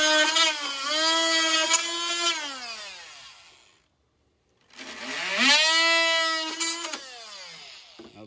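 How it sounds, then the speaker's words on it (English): A DeWalt oscillating tool cutting along a rib of plastic trim in a 2005 Chevrolet Silverado, a close, loud buzzing whine in two bursts of about three seconds each, its pitch sliding as the blade loads up, with a brief silence between. "I'm gonna use an oscillating tool. This one's from DeWalt"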